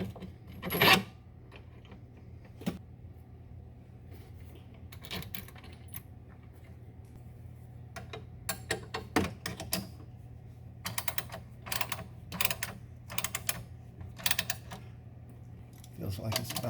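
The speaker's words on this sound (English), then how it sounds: "Just working the channel lock pliers back and forth here." Channel lock pliers worked back and forth on leaf spring bushings of a 2003 Club Car golf cart: sparse metallic clicks and rasps, then dense bursts of rapid clinking scrapes in the second half over a low background hum.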